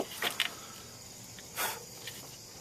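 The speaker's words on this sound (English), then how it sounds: "Doggone bugs didn't take long to pick up." Insects chirp faintly outdoors near a car being worked on for cooling system problems, with a few short high buzzing bursts over a quiet background.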